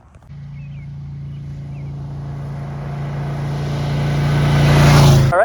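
A Ducati café racer motorcycle engine, heard while riding, drones steadily close by and builds louder as it accelerates, with wind noise rising near the end and no talking.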